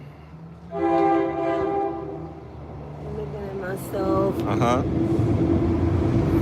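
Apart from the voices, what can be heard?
train passing by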